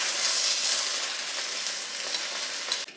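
Fish eggs wrapped in banana leaf hiss and crackle steadily on a hot grill at close range, with a soft clack near the end as the parcel is turned.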